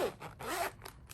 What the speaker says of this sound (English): The first zipper area contains the hooks.